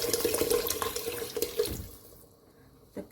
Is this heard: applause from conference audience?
no